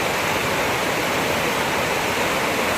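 Water gushes over a waterfall in a loud, continuous roar of broadband rushing that never lets up, heard close and with no voices.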